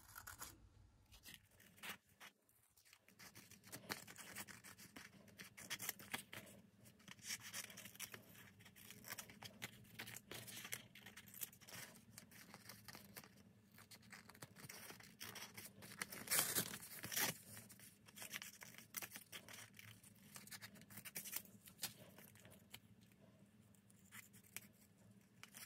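Scissors cutting paper for a collage, close and quiet, with soft irregular snips, rustles and crinkles of paper continuing steadily throughout, no talking.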